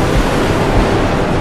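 A storm's wind roars in the Mad Max video game, a loud, steady broadband rush of gusting air with no voices.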